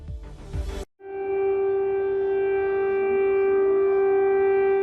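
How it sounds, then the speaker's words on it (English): After a brief burst of noise, a loud early-morning air raid siren sounds across Maidan Square in Kyiv, a steady, sustained wail that drones on without break. "Early morning air raid sirens ring out across Maidan Square in Kyiv."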